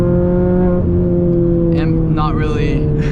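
A car engine drones steadily at moderate revs on a tight mountain touge road at sunset, heard from inside the cabin, loud and constant, with a voice talking over it partway through.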